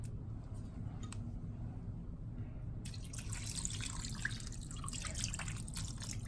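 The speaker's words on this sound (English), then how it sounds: "we're gonna go ahead and add our lime juice so they can all get covered up" Lime juice is poured over food in a bowl for aguachile: soft intermittent drips at first, then a fuller, continuous wet splashing trickle that runs steadily to the end, with no voices.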